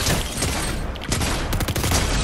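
Gunfire in Fortnite zero build blazes close and loud as a continuous barrage of rapid overlapping shots, dipping briefly before a fresh burst of quick cracks.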